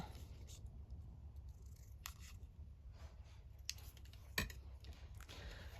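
Scissors cut craft material for a Valentine's project. A few faint, sharp snips and small metallic clicks come through a quiet room, spaced irregularly, with one slightly louder cut near the end.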